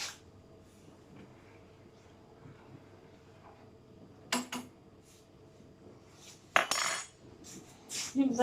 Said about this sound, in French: Vous allez me voir faire la vaisselle pour le coup